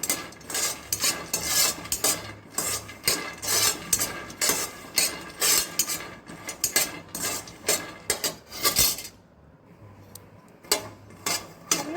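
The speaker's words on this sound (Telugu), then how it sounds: "పల్లీలను కూడా లో ఫ్లేమ్లో లోపల వరకు ఉడికేటట్టు ఫ్రై చేసుకోవాలి" Peanuts dry-roasting in a pan over a low flame, stirred continuously so the nuts rattle and scrape against the metal in a dense, steady rhythm, close and clear, with a quieter stretch near the end.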